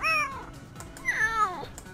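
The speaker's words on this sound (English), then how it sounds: "let's take a look at these cats" Cat meows in the Nancy Drew game Shadow at the Water's Edge: two clear, close, drawn-out meows, one after another.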